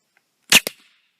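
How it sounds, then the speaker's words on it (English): A homemade air rifle fires a half-inch glass marble at 100 psi, giving a single sharp, loud pneumatic crack followed at once by a second short report, with quiet before and after. "Test 1, 1/2 inch glass marble at approximately 25 feet, 100 psi. Firing in 3"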